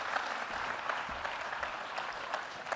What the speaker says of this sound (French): Encore une fois, je vous demande d'applaudir Bruno Vaffier, merci infiniment.